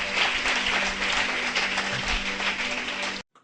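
A church congregation applauding and acclaiming the Lord, a dense, loud, continuous wash of clapping for about three seconds before it cuts off abruptly.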